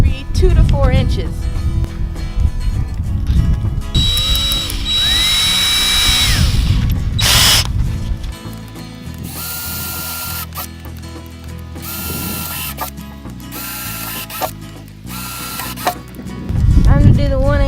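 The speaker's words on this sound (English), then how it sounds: "Right now, I need to drill holes in it." A power drill boring 3/8 inch and 1/8 inch holes into a plastic worm bin, with whining bursts and ratcheting clicks in short runs between pauses, along with someone talking.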